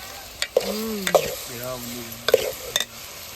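Garlic sizzles in a hot pan with a steady frying hiss, punctuated by a few sharp scraping stirs, while a voice speaks briefly over it.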